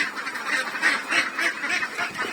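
A flock of ducks kept for eggs on a hot-weather farm quack and honk together in a dense, steady chorus close by, with no voices among them.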